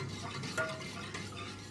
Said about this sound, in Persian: مرتب هم میزنیم. تقریبا 25 دقیقه باید هم بزنیم تا موادمون به جوش بیاد و غلیظ بشه.